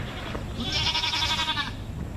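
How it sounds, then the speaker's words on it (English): Goats at a farm-style site beside a cave attraction bleat in a loud, wavering cry lasting about a second, close to the listener over a steady outdoor background hum. "Belching goats."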